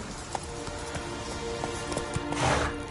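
Rapid clip-clop of a galloping horse in The Witcher 3: Wild Hunt, steady hoofbeats close by with a louder swell near the end.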